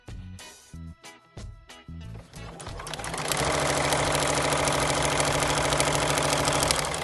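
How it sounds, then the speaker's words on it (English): Sewing machine running at a short 1.6 stitch length, sewing strips of denim scraps straight through tape; a few short bursts of stitching give way to a steady, loud continuous run, with no talking. "And just sew straight through the tape."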